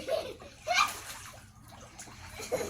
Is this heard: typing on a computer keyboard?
no